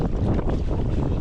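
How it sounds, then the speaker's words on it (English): Wind on an island reached by paddling, a steady loud rumbling roar of gusts buffeting the microphone, with no one speaking. "That wind, man."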